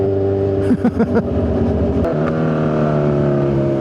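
A Kawasaki Z1000R motorcycle with an aftermarket AR exhaust revs sharply in a few quick bursts, then settles into a steady, throaty idle close by.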